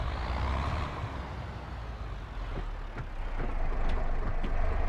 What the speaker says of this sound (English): Tractor just sounds amazing.